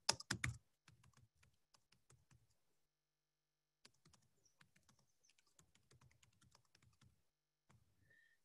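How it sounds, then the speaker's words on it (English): Quiet computer keyboard typing, a few louder knocks at the start, then bursts of soft rapid keystrokes separated by pauses, close and alone. "I'm just going to type in."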